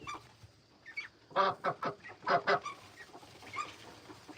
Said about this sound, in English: here are all of the ducks. Happily in their house.